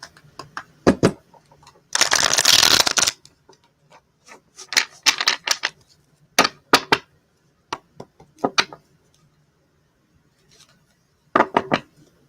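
Tarot cards being shuffled and handled, with sharp riffling bursts and one longer rushing shuffle, interspersed with quieter taps and knocks on a table, close and fairly loud, with pauses between.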